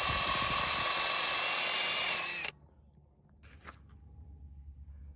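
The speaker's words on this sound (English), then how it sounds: "I'm gonna get a drill bit that's just smaller than the size of these threads and pre-drill this post" A power drill bores a pilot hole into a wooden post for a dog-run eyelet, whining loudly and steadily for over two seconds before cutting off abruptly, leaving quiet room noise.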